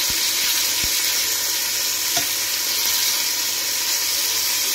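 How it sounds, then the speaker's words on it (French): Veal pieces browning in oil in a pot for blanquette de veau, giving a loud, continuous close-up sizzle with a couple of faint knocks underneath and no talking. "Je fais revenir d'abord la viande avec l'huile"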